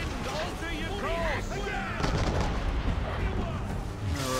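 Gunfire rings out in the video game Assassin's Creed 3 as a heavy burst of shots and booms, while someone talks over the din throughout.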